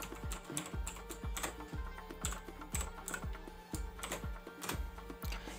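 Steady typing of sample text on a computer keyboard in MS Word, a rapid, even run of clicky keystrokes close to the mic with no voices.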